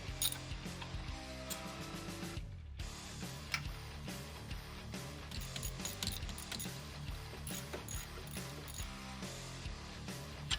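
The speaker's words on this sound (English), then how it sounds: "Definitely need a deep well socket for that." A ratchet with a deep well socket removing bracket bolts on a Jeep during a valve cover replacement, a steady rapid clicking of the pawl with a brief pause, close and alone.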